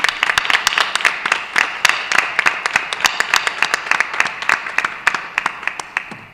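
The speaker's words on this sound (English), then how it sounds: "So another round of applause for Mrs. Smith." Applause at a board of education meeting for a retiring staff member, a steady patter of many hands clapping in a room, fairly loud and fading slightly toward the end, with no talk over it.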